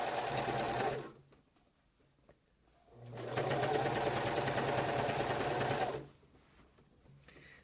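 A sewing machine stitching binding onto a quilt runs in two steady bursts, about two and three seconds long, with a quiet pause between them. No voices are heard.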